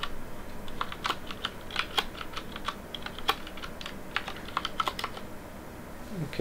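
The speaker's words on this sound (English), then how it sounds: "I guess I've got to type that in. okay, I can type that in." Someone types on a computer keyboard, a close run of irregular clicking keystrokes with short pauses and occasional firmer taps, with no talking.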